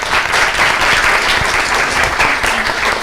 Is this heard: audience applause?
yes